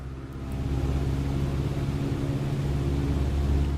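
Aircraft engine held at full throttle in Flight Simulator 2020, a steady droning hum with tonal engine harmonics that swells after a brief start and stays constant, no talking.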